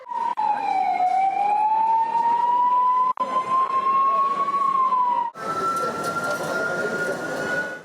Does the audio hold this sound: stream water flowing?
no